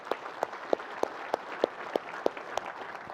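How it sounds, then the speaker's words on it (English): Faint applause from a business audience comes through as a thin, evenly spaced run of about ten sharp claps, steady in rhythm and heard from a distance. "I'd love to give you guys just a chance to give him a round of applause because Jeremy Ross is right here."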